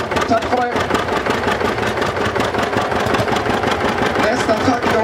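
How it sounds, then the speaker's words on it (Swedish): A large diesel engine on a vintage tractor at a tractor parade in Degeberga, Sweden, runs with a loud, steady, rough mechanical clatter throughout, while a voice speaks over it. "sen slår man in den så den drar igång den stora dieseln"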